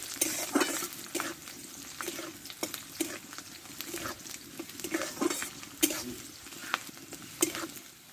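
Green chili, garlic and onion frying in a pan for a drumstick-leaf dish, a low steady sizzle broken by repeated scraping stirs at an irregular pace, close and fairly quiet.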